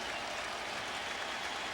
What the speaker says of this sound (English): Cardinal fans standing, applauding, loving what they've seen today.